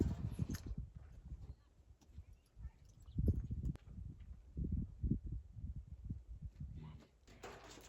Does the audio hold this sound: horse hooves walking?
yes